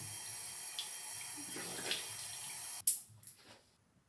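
A bathroom tap runs steadily while someone rinses their face, a soft continuous stream that ends with a sharp knock. Brief splashes follow, then it fades to near quiet.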